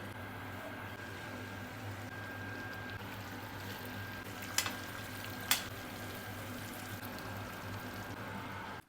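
Beef fillet frying in butter with garlic and rosemary gives a steady, even sizzle throughout, broken by two brief sharp clicks near the middle, with no one speaking.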